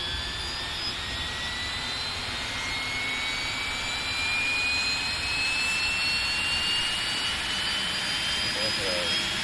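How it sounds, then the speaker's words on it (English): The APU of a TFDi 717 in the Prepar3D v4 flight simulator spools up, a constant turbine roar under a high whine that slowly rises in pitch, with speech faintly present. "You can hear the APU spooling up."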